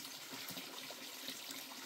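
Water trickles and splashes steadily into a bamboo tube holding wild boar for cooking outdoors, a short continuous pour with no talking.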